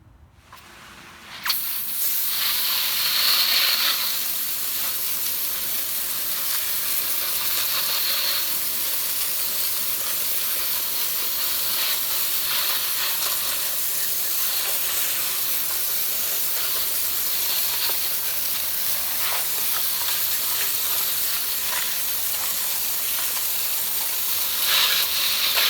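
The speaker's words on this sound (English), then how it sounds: "I'm gonna go take it over to the hose now, rinse them off" A garden hose sprays water over freshly harvested sweet potatoes, making a steady, close hiss that runs continuously after a brief start, with slight surges as the spray shifts.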